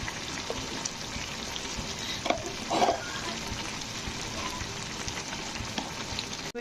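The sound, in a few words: stirring cabbage with coriander and ghee in pan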